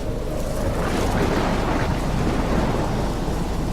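Steady storm ambience from the video game Life Is Strange, a continuous loud wash of rain and rumbling thunder with no distinct individual claps, filling the whole stretch without talk.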